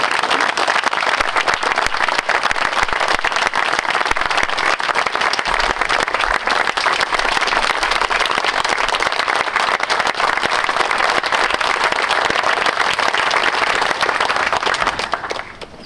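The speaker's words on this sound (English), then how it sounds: "we need to have another round of applause to acknowledge that" A ceremony audience at a Purple Heart Day event gives a long, loud, sustained round of applause that holds steady for about fifteen seconds before tapering off at the very end.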